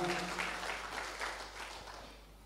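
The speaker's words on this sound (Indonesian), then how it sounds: "Beri tepuk tangan yang meriah." Church congregation applauding during an Indonesian Sunday worship service in Jakarta, a steady, moderately loud wash of many hands clapping that slowly fades.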